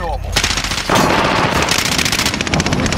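Automatic machine gun fire from a Call of Duty: Modern Warfare firefight, loud, dense rapid bursts running almost continuously for three seconds with sharper shots layered near the end.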